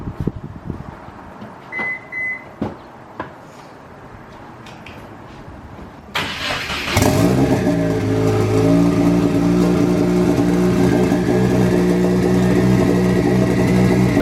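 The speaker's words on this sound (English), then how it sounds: "So right now I'm gonna give you guys a little cold start" A loud modified car engine cold-starts after some faint clicks and thuds, then settles into a steady, rumbling high idle that stays loud and close.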